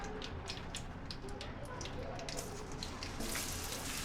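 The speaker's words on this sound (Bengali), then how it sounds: "এখন পেঁয়াজটা হালকা একটু ভেজে নিচ্ছি।" Chopped onion fries in hot oil with whole spices for a chicken curry, giving a faint, even crackling sizzle that crisps slightly louder near the end.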